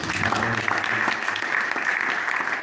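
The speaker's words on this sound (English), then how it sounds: "Let's give a round of applause for Nancy Pappas." An audience at a conservation event presentation applauds, steady dense clapping from a room full of people throughout, near and moderately loud.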